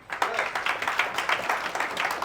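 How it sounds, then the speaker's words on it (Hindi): Audience clapping at a business seminar, a brief burst of rhythmic, fairly close hand claps sounding evenly throughout. "इसके लिए भी आपको तालियां बजानी चाहिए"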